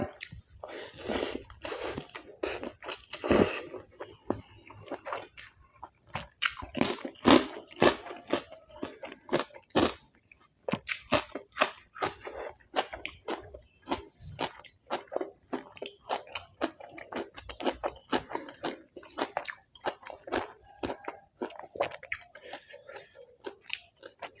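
Close, crunchy chewing while eating a Thai khanom jeen rice noodle salad with chili dip and blanched morning glory, wet squishy bites and crisp crunches repeating steadily throughout, with no talking.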